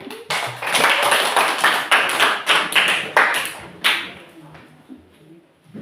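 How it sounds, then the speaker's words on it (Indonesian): A small group of people clapping in a classroom or meeting room, loud and close, with sharp individual claps in a quick, uneven rhythm. The clapping fades out after about four seconds, leaving a quiet room. "Tepuk tangan untuk Ramadan Weki angkat."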